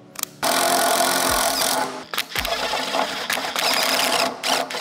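A step drill bit bores a hole, likely into an RV junction box, in two loud sustained bursts with a brief pause between them and a short whine tailing off near the end.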